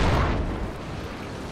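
A heavy mortar impact in Project Reality, a deep, loud boom that swells at the start and then rolls off into a low rumbling tail, heard alone without talk.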